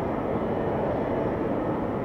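American Airlines airliner taking off at Atlanta Hartsfield airport, a steady broadband jet roar held at constant loudness, dense and unbroken throughout.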